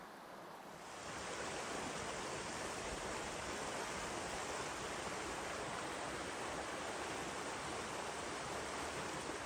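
A steady rushing of flowing water from a brook in northern Maine fills the scene, constant and fairly soft, with no voices.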